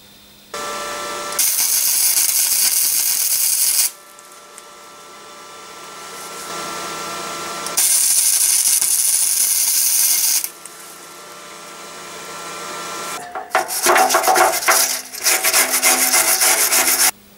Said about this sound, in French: Donc là, je suis prêt pour la soudure.